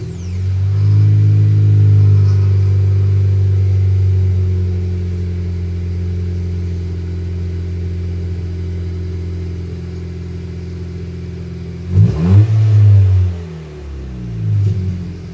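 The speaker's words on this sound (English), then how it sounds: "Accord with muffler delete." A 2018 Honda Accord with a muffler delete holds a loud, steady, low exhaust drone, then gives a quick blip of revs near the end before settling back.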